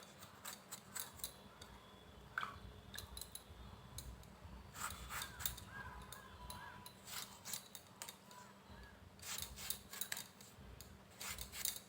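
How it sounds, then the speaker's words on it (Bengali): A knife slices tomatoes on a board, giving quiet repeated crisp cuts and soft taps in an irregular rhythm, faint and close, over a low background hum. "টমেটো কেটে নেব।"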